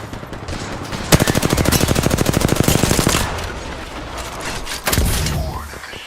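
Rapid automatic gunfire bursts from the video game Dead Space, a long rattling volley lasting about two seconds followed by a single sharp shot later, loud and close over game ambience.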